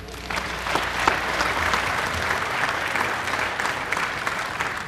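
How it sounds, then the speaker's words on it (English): Steady crowd applause at an archery tournament's youth female recurve finals, sustained and fairly even for about five seconds, with no talking over it. "Give these guys a round of applause"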